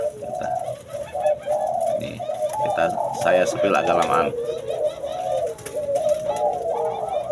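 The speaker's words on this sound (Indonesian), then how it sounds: "Berikut burung punai ya." Soft repeated green pigeon coos, low and mellow, continuing under a person talking nearby.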